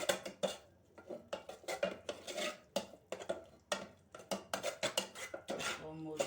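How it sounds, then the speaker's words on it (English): A spoon scrapes and clinks against a metal pot while stirring fish sauce with pepper and a little oil, giving a busy run of uneven clatters and knocks that ends in a short rattling burst. "Stir."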